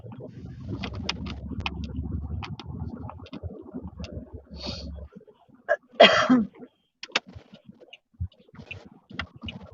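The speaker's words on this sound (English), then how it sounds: "all I hear is grunting and coughing" Scattered coughs and throat-clearing grunts, with a louder burst of coughing near the end, after a stretch of low background rumble.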